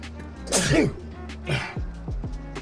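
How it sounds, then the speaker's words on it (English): One sharp, close sneeze bursts out, followed by a few quieter breathy sounds. "I'm about to sneeze"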